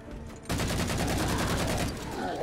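Concussion rifle firing in Halo 4, an abrupt onset of rapid, continuous booming shots that stays loud and sustained for about two seconds, with a rhythmic pulsing texture.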